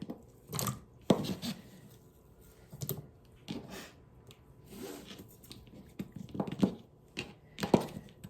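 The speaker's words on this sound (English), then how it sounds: "I'm just chopping these up." A knife taps against a cutting board in quick, uneven bursts with pauses between while chopping vegetables, close and fairly quiet, no voices.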